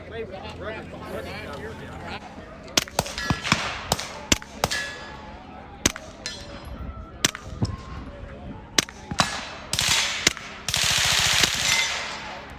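An integrally suppressed 16-inch rifle firing 115 grain ammunition lets off a run of sharp, close reports spaced irregularly, some in quick pairs, with loud bursts of broadband noise near the end and people talking throughout.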